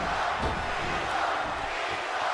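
Steady roar of a wrestling arena crowd in WWE 2K16 during a Cena versus Seth Rollins match, a dense, continuous wash of cheering with no pauses and no commentary over it.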